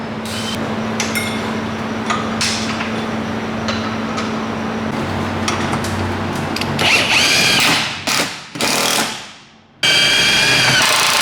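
An impact gun tightens sway bar end links on a Mitsubishi Evo 8 during a Whiteline suspension install, first a steady whir, then loud rattling bursts that stop and start, close and without talk.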